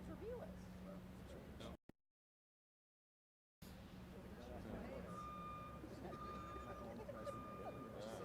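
Evenly spaced electronic beeps from a reversing vehicle during demolition work sound over rumbling traffic noise, with a brief gap of silence partway through.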